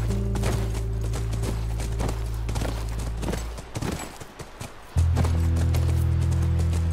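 Rhythmic horse hoofbeats in the video game The Last of Us clip-clop steadily over a loud, constant low hum, with a brief quieter gap before the droning background swells again.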